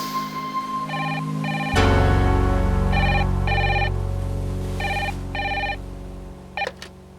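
A telephone rings in repeated short electronic trills, four bursts in a steady rhythm, over a low musical drone in an indoor scene, followed by a couple of sharp clicks.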